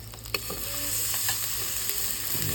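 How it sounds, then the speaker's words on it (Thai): Shallots and onion fry in hot oil for a Thai stir-fried basil dish, a loud, continuous sizzle with light stirring scrapes and one brief knock near the start. "เดี๋ยวร้อนน้ำมันห้อนแล้วเดี๋ยวเขาก็ จะเอาหอมนะครับ ผมหอมเจียวกับหอมหัวใหญ่นะครับ ลงไปก่อนนะครับ"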